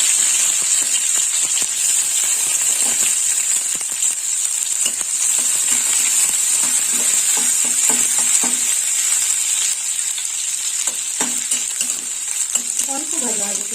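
Raisins fry in hot white oil in a wok, giving a loud, steady sizzle with scattered crackles and pops and occasional stirring clinks throughout.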